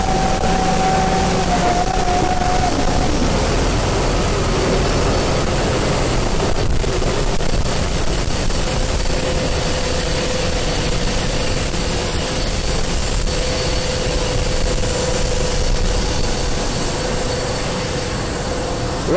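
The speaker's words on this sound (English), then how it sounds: "So here's cargo loading in progress right now." Steady broadband roar with faint whining tones on the apron beside an Airbus A330 during cargo loading, a continuous mix of ground equipment and engine hum with no talk.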